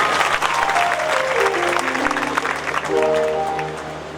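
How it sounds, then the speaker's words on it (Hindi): Clapping from the audience at an annual devotional festival after a bhajan performance, a broad continuous burst of applause that holds steady then tapers slightly, with faint tones and a low hum underneath. "इनके लिए ताली बजाइए"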